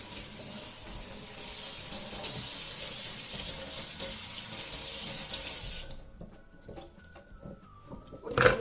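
Tap water runs steadily into a sink as garlic cloves are washed, a continuous close splashing hiss that cuts off near the end, leaving quiet kitchen clatter and a brief clink.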